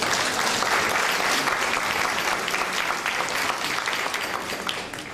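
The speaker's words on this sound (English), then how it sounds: "I think we need to applaud that." A school audience at a speaker's address breaks into loud, sustained applause, a dense, even wash of many hands clapping that continues without a break.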